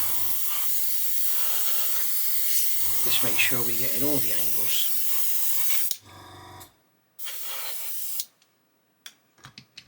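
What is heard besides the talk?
hairspray sprayed from an aerosol can onto a model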